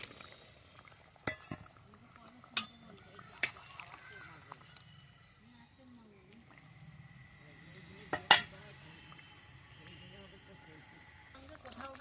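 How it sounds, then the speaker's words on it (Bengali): Pieces of fried bata fish are dropped into a pot of simmering vegetable jhol. A few sharp clinks and soft splashes stand out over a faint, quiet background, with a louder clatter near the end. "এবার আমি এর মধ্যে ভেজে রাখা মাছগুলো দিয়ে দিচ্ছি"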